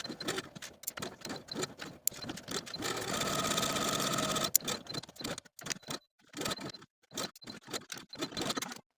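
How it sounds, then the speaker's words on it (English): A sewing machine stitching a dress seam, running in short fast bursts of rhythmic mechanical whirring, one sustained run of about two seconds, then stopping and restarting several times, close and clear with no talk. "Sew with a 1/2 inch seam allowance."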